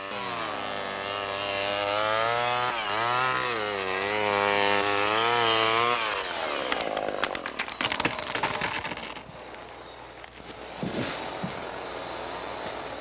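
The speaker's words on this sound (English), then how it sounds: "The timber is hand-cleared and cut to fall within the limits of the right-of-way." Chainsaw felling timber while a brush crew clears the Trans-Alaska pipeline right-of-way in 1975, its engine revving up and down steadily and close, then settling into a rougher, lower cutting note.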